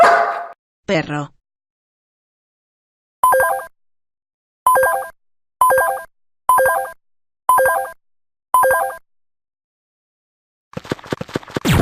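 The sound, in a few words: dog barking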